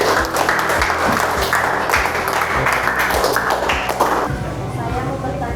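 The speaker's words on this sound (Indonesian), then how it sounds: "beri tepuk tangan buat kelompok 1" Classroom applause for a student group, with several pairs of hands clapping in a loose, uneven patter, close by and fairly loud, alongside taps and light shuffling.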